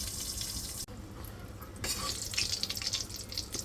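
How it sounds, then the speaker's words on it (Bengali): Fish frying in its own oil in a pan in a home kitchen: a steady broadband sizzle with a brief break, then hissing and crackling returning louder. "মাছের তেলের মধ্যেই ভাজতেছি"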